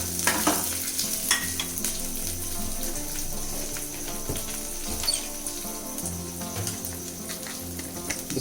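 Curry leaves, chili and a pinch of asafoetida stir in hot tempering oil for lemon rice, giving a steady close sizzle with scraping spoon strokes and occasional sharp crackles throughout, no talking.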